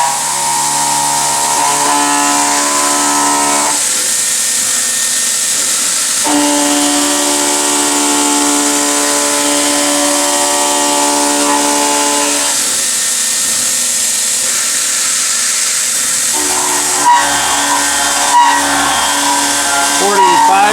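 A CNC milling machine cuts a cup with the spindle at 4,500 RPM, giving a steady whining tone broken into sections as passes change, with faint clicks near the end.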